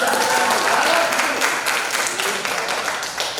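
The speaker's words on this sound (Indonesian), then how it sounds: "Tepuk tangannya sing ikhlas tuh. Tepuk tangan." Audience applause at a guest lecture in a university post-doctoral programme, a dense, steady wash of clapping across the whole stretch that fades slightly toward the end.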